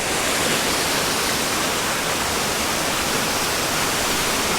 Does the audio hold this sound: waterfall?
yes